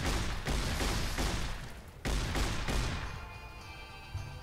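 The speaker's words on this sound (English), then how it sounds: "Somebody's shooting red glare." Gunfire from Fallout: New Vegas, a dense barrage of loud, overlapping shots and blasts that come in bursts, ease off briefly near the middle, then return before trailing into a fading rumble with one last sharp hit.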